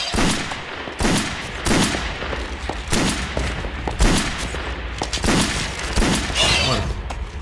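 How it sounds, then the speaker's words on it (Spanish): Gunshots in the Silent Hill Homecoming video game, a series of loud sharp blasts spaced roughly a second apart over a low rumbling background, each with a short ringing tail. "Dos disparos en la cabeza."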